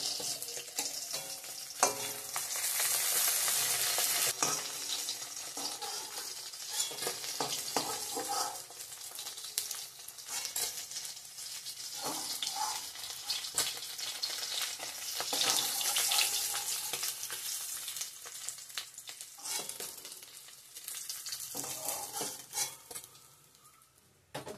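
Dried chillies and bay leaves frying in hot oil in a home kitchen before onions go in for a potato-tomato fish curry, a long, steady close sizzle with occasional stirring clatter and water-like hiss.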